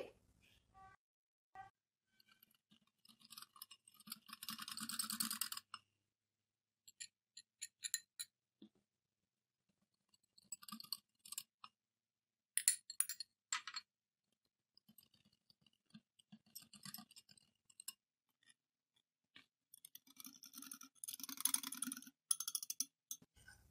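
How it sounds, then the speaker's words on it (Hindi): Paratha batter with wheat flour or maida is stirred and mixed little by little in a bowl, giving intermittent bursts of soft clicking and clinking utensil sounds separated by quiet pauses. "थोड़ा थोड़ा डालकर हम मिक्स करेंगे"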